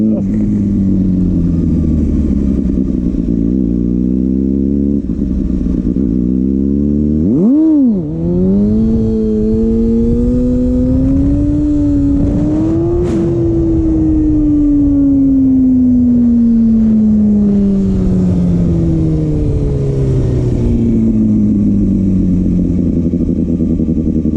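A Kawasaki ZX-6R Ninja sportbike engine, loud and close, drones at steady speed, dips sharply, then revs back up on the throttle and winds down gradually over a long pass, with faint talk under the engine noise.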